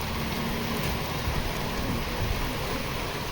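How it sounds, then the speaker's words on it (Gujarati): Rain falling outside in a village, a steady dense hiss of rainfall on surfaces, continuous and moderately loud, with no talking. "છે ને વરસાદ"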